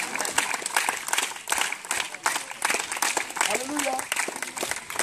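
A church congregation applauds joyfully during a deliverance service, continuous dense clapping filling the room while voices and cries rise alongside it.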